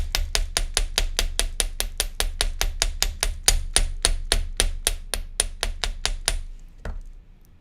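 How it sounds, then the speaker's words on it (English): Rapid, steady hammer taps on a wire leaf, about thirty sharp light strikes in an even rhythm, then a final tap and quiet. "so now I have my hammered leaf"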